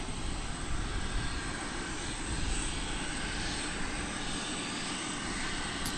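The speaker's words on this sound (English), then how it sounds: "we're going to be seeing flight 399, American Airlines, in Airbus A321neo" An American Airlines Airbus A321neo airliner arriving at DFW Airport produces a steady, broad engine roar, loud and continuous with a faint high whine, holding nearly constant throughout.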